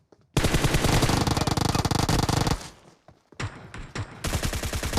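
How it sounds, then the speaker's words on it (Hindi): Automatic gunfire erupts in the BGMI battle royale game, a loud sustained burst of rapid shots followed by a brief pause and then further shorter bursts, close and dominant with no talk. "गोली चलाई मैंने, ठीक है मिस किया"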